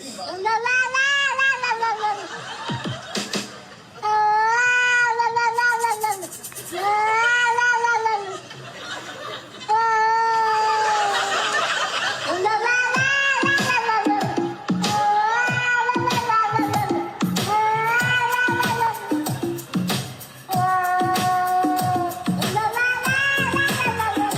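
A song remix built from a neighbor's cat meowing: loud, repeated, pitched meows set to a beat with sharp percussive hits, forming a rhythmic musical pattern throughout.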